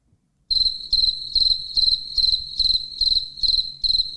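Cricket chirps sounding as a comedic sound-effect button, loud and close, in eight evenly spaced pulsing bursts over a faint low rumble, with no voices.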